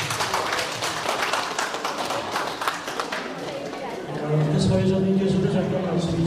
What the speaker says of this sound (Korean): 박수를 좀 한번 보여주세요.